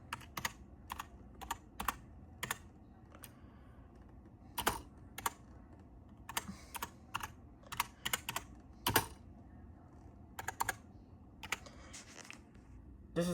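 Crisp clicks of a computer keyboard, typed in short irregular bursts with pauses between, close up against a quiet room.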